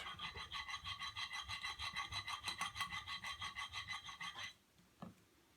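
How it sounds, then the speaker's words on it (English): A swivel knife blade is drawn across an 8000 grit sharpening stone in a close, steady run of quick back-and-forth rasping strokes, about twenty, that stop abruptly, followed by a faint tap. "And all I need is a few strokes there to take off the 1200 grit."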